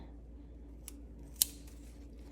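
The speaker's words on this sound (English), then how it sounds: "So what we're gonna do is we're gonna cut them" Scissors snip through dried wedding flower stems, giving two short, sharp cuts about half a second apart over a quiet room hum, the second crisper and louder.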